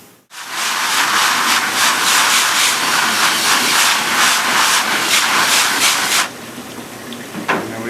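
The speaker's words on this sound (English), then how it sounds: "We'll take it over and rinse off all that extra PVA." A strong water spray rinses PVA film off a freshly hydro-printed wood-grain M16 buttstock, a loud steady hiss that runs for about six seconds before cutting off, leaving quieter dripping and a faint knock.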